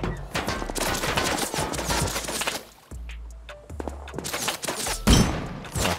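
Rapid bursts of gunfire in the video game Rust crackle and pop, with a brief lull midway and a heavy thump near the end.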